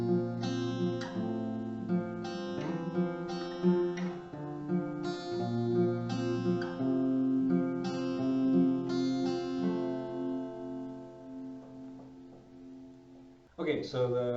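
A guitar plays part of a song as a run of ringing chords and plucked notes that decay between strikes, heard alone and ending with a brief sharp noise.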